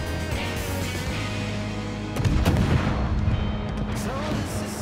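Naval gunfire in the World of Warships video game, as the Andrea Doria shells the Minas: low rumbling booms and a louder burst of artillery partway through, over a steady game soundscape.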